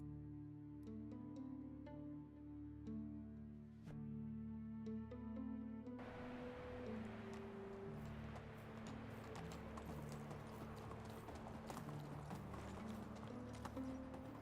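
A horse's hooves clip-clop at a steady walking rhythm in Medieval Dynasty, faint under a sustained musical score that thickens halfway through.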